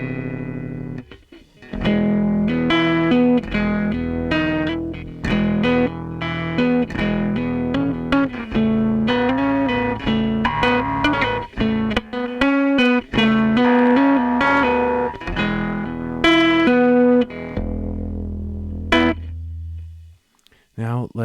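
A bass guitar line plays through a Placid Audio Carbonphone RU-80 carbon microphone on a bass amp, with a gritty, distorted, lo-fi tone, steady notes running for about twenty seconds before fading out.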